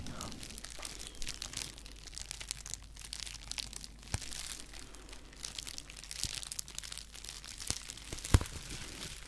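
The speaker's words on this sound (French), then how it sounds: "Appréciez ce doux bruit de papier bulle, malaxé par mes douces mains d'artiste ASMR" Crinkling and crackling bubble wrap squeezed and rubbed by hand, with occasional sharp pops, close and soft throughout.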